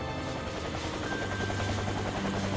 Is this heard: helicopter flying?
yes